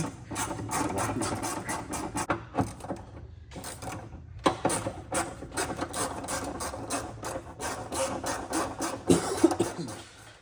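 A ratchet socket wrench with a 10 mm socket on a deep extension loosens nuts on a 2.8L Duramax engine, giving close, rapid bursts of ratcheting clicks with short pauses between strokes.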